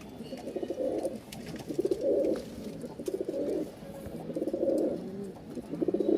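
Rajshahi Bashiraj Kokka pigeons coo repeatedly in rhythmic, rolling phrases, fairly close and steady, with several birds overlapping and brief pauses between bursts.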